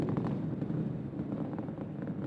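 An Atlas V 541 rocket with RD-180 engine and solid rocket boosters roars in flight through Mach 1, a steady, dense low rumble with crackling texture, continuous and distant-sounding, with no talk.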